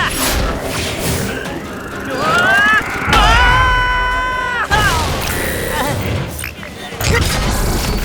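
A multi-arrow weapon fires in an animated dinosaur show, giving a loud burst of blasts and crashes mixed with music and sweeping tonal effects while voices shout over it.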